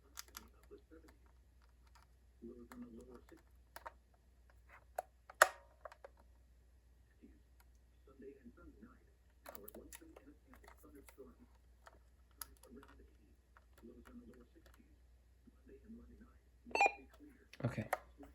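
Buttons are pressed and held to set the clock on a RadioShack 12-256 weather radio, producing scattered short clicks and beeps amid frequent talking over a quiet room.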